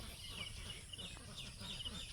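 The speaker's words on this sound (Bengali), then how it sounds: "বিভিন্ন ধরনের পাখি ডাকতেছে" Several birds, mostly mynas, chirp and call in short repeated bursts through a low outdoor background on a morning walk, fairly faint and continuous.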